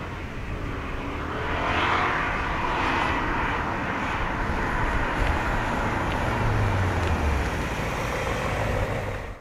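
A naturally aspirated V8 in a 2000 BMW E39 M5 with a manual gearbox drones steadily and loudly throughout, a continuous engine rumble with road noise and no talking.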